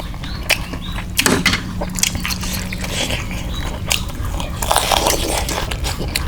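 Crunchy bites and wet chewing of crispy grilled squid tentacles on skewers, close and loud, with repeated crisp crunches over about six seconds and no talk.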